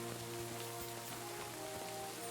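Steady rain in the medieval game Kingdom Come: Deliverance, a faint continuous patter of drops on surfaces with a soft background hum and no talk.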